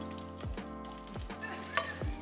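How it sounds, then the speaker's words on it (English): Peppers sautéing in a pan at a cooking demonstration, a steady close sizzle broken by a few scraping stirs and one brief sharp clink, with no talking. "I'm gonna saute these"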